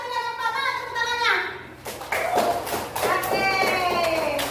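A classroom of children breaks into scattered clapping, quick uneven hand claps in bursts, with an adult and children talking throughout.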